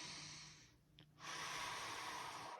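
A slow, deep breath drawn during a guided relaxation, a soft airy inhale and exhale heard close against a steady background hiss, with a brief lull in the middle.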